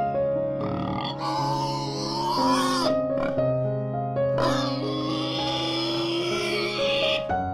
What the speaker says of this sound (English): Danish landrace pig.